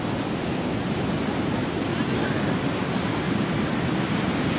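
Beach surf washing in steadily, a dense continuous roar of breaking waves with wind across the microphone, at a beach during Pride weekend, with no pauses or talk.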